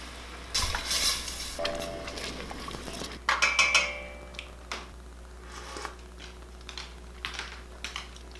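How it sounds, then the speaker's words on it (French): Cream stirred into a reduced wine sauce for moules marinière in a pan: close, irregular scrapes and clinks of a utensil against the pot over a low simmering sizzle, with short pauses between strokes. "On va venir mettre de la crème puis on brasse notre sauce"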